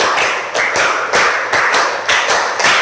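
A school class claps a counted rhythmic pattern, loud, close, crisp bursts in grouped beats repeating steadily, with no voices over the claps.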